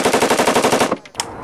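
Machine gun on full automatic at a Las Vegas shooting range, a loud rapid burst of evenly spaced shots lasting about a second, then stopping, followed by a brief metallic clatter.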